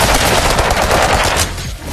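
Rapid, loud, continuous gunfire from a shotgun in the Monster Rampage VR video game, dense blasts filling the moment up close with no talking.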